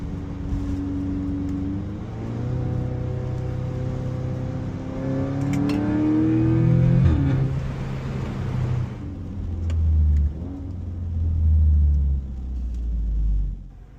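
Modified Audi S3 engine heard from inside, building revs with rising harmonics, then sharp downshifts and renewed acceleration, loud and continuous throughout.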